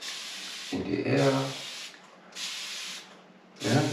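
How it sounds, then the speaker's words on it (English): Fine mist sprayed into the air from a sprayer filled with distilled water, heard as soft airy hissing bursts that start and stop in several separate pulses, close by. "We just spray a very fine mist in the air."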